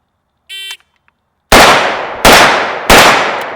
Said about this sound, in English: 35-yard steel, 1 shot each on 3 steel